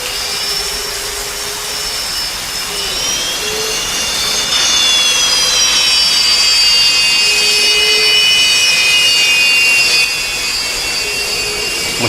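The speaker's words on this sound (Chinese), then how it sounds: "这是飞机在试车啊" A military jet engine runs up on the ground during a test, a steady loud roar with a high whining tone that rises and shifts, swelling louder midway and holding without any voices.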